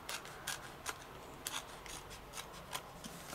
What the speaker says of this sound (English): then we're just going to trim up the outer edges down